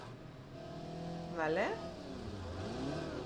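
Cars driving past in the BeamNG Drive driving game, engines rising and falling as vehicles pass, one louder surge midway, with someone talking over them.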